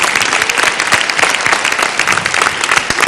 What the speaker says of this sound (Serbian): Ajmo, molim vas, jedan aplauz za Gocu i Anđelku